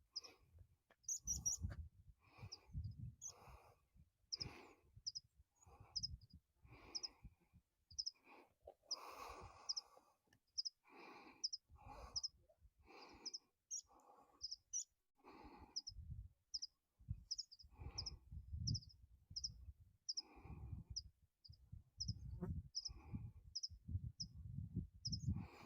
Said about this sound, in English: don't know whether you can hear the birds tweeting away